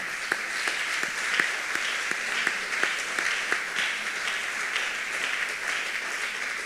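A church congregation applauding the Lord, sustained clapping with a few sharp individual claps standing out, moderately distant and steady.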